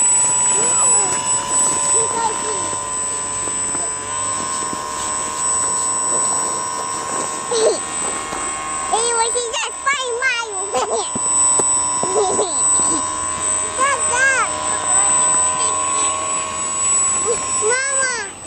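A small model airplane motor buzzes steadily at a high pitch throughout while the plane flies, as voices talk and call out over it.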